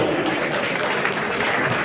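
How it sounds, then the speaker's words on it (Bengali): An audience at a Durga Puja committee award ceremony claps for a winning pandal: a dense, steady wash of many hands clapping throughout, with no pauses. "একটু জোরে হাততালি হোক"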